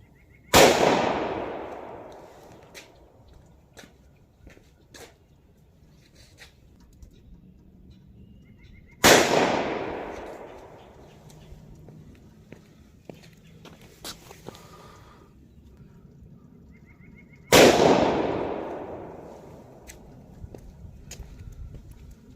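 Three loud .38 Special gunshots fired into a calibrated ballistic gel block outdoors, each a sharp crack with a decaying tail, spaced about eight seconds apart, with quiet ambient rustle between them and no talking.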